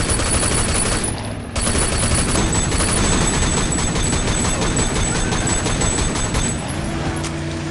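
Sustained automatic gunfire in the open-world action game Sleeping Dogs, loud rapid bursts nearly continuous through the clip with a short gap early on.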